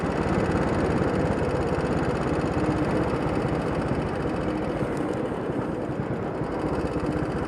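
A Royal Enfield motorcycle engine idles close by on an afternoon commute, a steady low throbbing rumble held at even loudness throughout with no voices.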